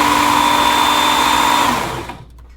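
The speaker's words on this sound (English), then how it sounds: "The WorkSharp also has a speed adjustment on the motor." Motor of a Work Sharp Ken Onion belt knife sharpener running at speed, a loud steady whine with a sustained tone that slows and winds down toward silence at the end.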